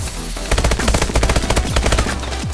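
Rapid bursts of gunfire from a burst-fire weapon in a shooter game, loud clustered shots in quick rhythmic groups over a low rumbling backdrop.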